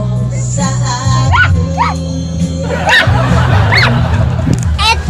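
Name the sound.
dog barking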